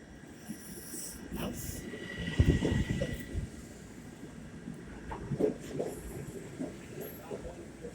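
An M7 commuter train pulls into a Long Island station on a slushy Saturday night, its rumble and squealing brakes rising over ambient platform noise at moderate distance, with a few bumps and clanks along the way.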